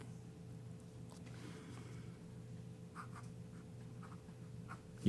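A crisp cursive italic pen nib scratches across textured bank paper in short, faint strokes over a low steady room hum, ending with a brief louder tap.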